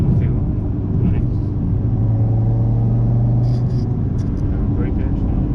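An Audi RS3 family car runs on a dyno, giving a steady low engine rumble whose drone climbs slightly in pitch before easing off, with people talking nearby.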